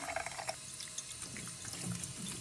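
Tap water runs steadily into a sink while a whole raw chicken is rinsed inside the cavity, a close, continuous splashing stream with uneven spattering.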